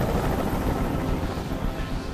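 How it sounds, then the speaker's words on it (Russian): A helicopter in the video game Detroit: Become Human, heard as a dense, steady rotor rumble and wash that fills the short moment, loud and close, with no talk. "Прикажи им, чтобы вертолет убрался!"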